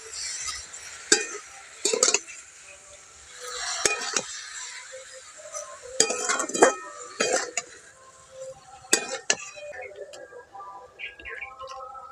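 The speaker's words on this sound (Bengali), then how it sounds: "অল্প অল্প করে দিয়ে একটু নাড়াচাড়া করতে হবে" Sugar is stirred into vermicelli in a pan for jorda semai, making scattered light clinks and scrapes of a spoon against metal, with soft rustling in between, fairly quiet and close.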